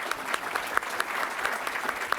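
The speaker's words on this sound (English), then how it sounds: "let's give a round of applause for Johnny, though." An audience at a sports technology conference applauds, steady moderate clapping with individual claps popping out, heard from within the room.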